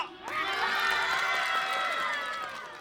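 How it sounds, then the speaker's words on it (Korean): A fan club crowd at an outdoor hip-hop busking show in Incheon bursts into loud cheering and shouting that holds for a couple of seconds and then fades. "자, 박수와 함성 박수!"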